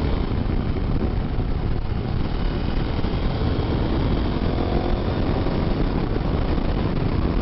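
A KTM 1290 Super Adventure S motorcycle engine under way at part throttle, a steady loud drone mixed with wind rush, continuous and close for the whole stretch with no talk.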